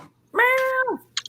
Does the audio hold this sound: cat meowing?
yes